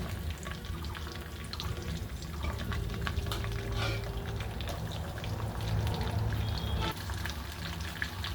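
Chopped onion fries in oil with cinnamon, cardamom, bay leaf and cumin for a mutton curry: a continuous soft sizzle and bubbling, with occasional stirring clicks, fairly quiet and steady throughout.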